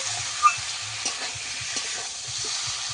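Pointed gourd sizzles in a pan of spice paste and oil while a spatula scrapes and stirs it in a slow, irregular rhythm, loud and close.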